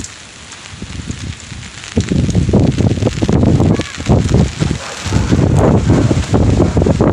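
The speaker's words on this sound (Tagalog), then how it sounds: "At lakas ng hangin," Strong gusting typhoon wind buffets the microphone in loud roaring bursts, with a patter of rain mixed in throughout.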